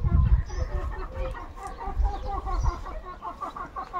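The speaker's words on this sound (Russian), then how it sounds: "Курочки гуляют" Free-ranging chickens cluck and murmur close by as they wander a backyard on a rural homestead in Kuban, with repeated short, uneven calls and soft scratching sounds.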